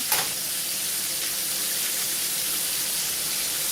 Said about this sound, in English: you got to keep turning your chicken while it's frying so it doesn't stick